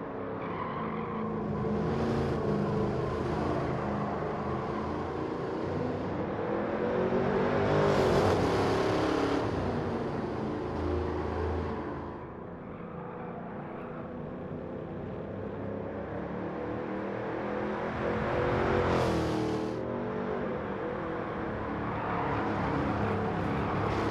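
A De Tomaso Pantera race car in Gran Turismo 7 revs loud and close, its engine note rising and falling through gear changes and corners with brief sharp upshifts, running steadily throughout.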